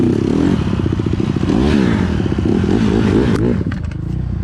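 A fast dirt bike roars loudly up close on a trail, its engine note climbing and falling with throttle while clatter and scrapes from the rough ground break through, then easing near the end.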